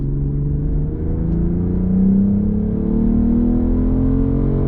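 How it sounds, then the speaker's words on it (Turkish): A 2022 BMW M440i in Sport Plus mode accelerates hard, its loud, close engine drone climbing steadily in pitch for several seconds with no voices over it. "Şu an araç Sport Plus modunda bu modda aracı bir hızlandıralım."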